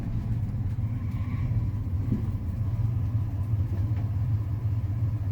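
An old Ford F-150 truck engine idles steadily during an ignition timing check, giving a low, even rumble that holds without surging, close and moderately quiet with no talk.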